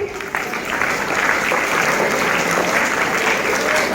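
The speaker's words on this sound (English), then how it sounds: "Please clap for them." Loud, sustained applause fills a school hall during a class VIII Preamble recitation event, a continuous wash of many hands clapping with faint voices beneath.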